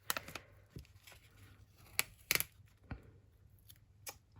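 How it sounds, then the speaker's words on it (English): Scissors snipping cello tape in short, crisp, irregular cuts, quiet and close, with small rustles of the tape between snips. "Scissors."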